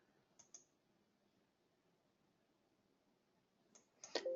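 A few faint, sharp clicks of a computer mouse on trading software, a pair near the start and a quick cluster at the end, in a quiet room.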